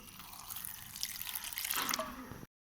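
Water trickles and splashes into flour batter for makki ki roti, a short, quiet pouring stream that shifts in pitch as the bowl fills, then stops abruptly.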